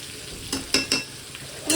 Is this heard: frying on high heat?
yes